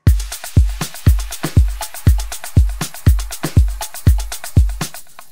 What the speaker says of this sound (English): So let's play the whole drums set first